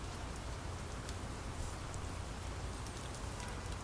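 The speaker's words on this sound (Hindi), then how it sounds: "यार ये बारिश क्यों हो गई?" Steady, even rainfall hisses continuously, a soft constant patter with no voices or other sounds.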